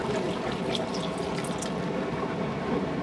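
Water pours steadily into a cooking pot in a continuous splashing, filling rush, close and fairly loud with no talk over it.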